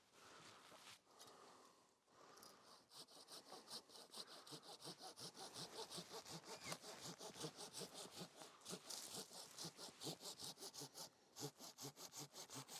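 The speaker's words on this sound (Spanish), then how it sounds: "Incluso esta rama la podríamos quitar con el serrucho." A handsaw cuts through an almond tree branch during orchard pruning, its steady rhythmic back-and-forth strokes loud and close, broken by a short pause near the start and another near the end.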